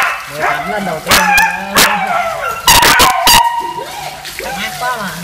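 German Shepherd puppies bark and yip repeatedly during a bath, sharp loud barks scattered over a steady background with whimpers and a person talking in between.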